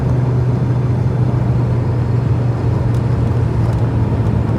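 A 1984 Vauxhall Cavalier mk2 drives along a road, its engine giving a steady, loud low drone with road and wind noise throughout and no voices.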